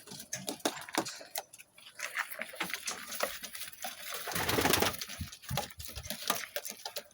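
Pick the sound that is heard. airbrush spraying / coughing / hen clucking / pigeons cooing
pigeons cooing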